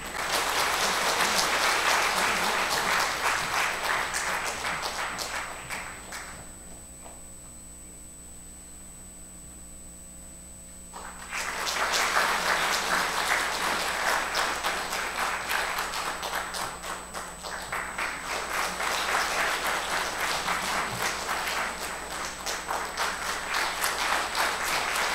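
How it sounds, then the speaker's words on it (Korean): A church congregation claps loudly as a large group, with a retirement ceremony for church officers as the setting. The steady, dense applause dips to a quieter stretch in the middle and then swells again, with no talk over it. "우리 집사님들께도 크게 한번 박수 한번 쳐주시기 바랍니다."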